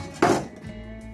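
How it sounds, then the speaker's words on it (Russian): A knife slices through a hard, peeled quince to quarter it, giving one firm crunching cut with a knock on the board, close and fairly loud, then a quiet low hum. "Разрезаю ее на 4 части."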